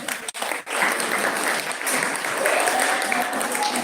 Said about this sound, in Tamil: தயவு செய்து கையை தட்டுங்க.